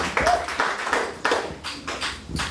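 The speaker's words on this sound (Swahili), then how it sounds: "tuwapigie makofi tafadhali" A small church audience claps in a scattered way for children who have finished their exams, a series of sparse, fairly faint claps.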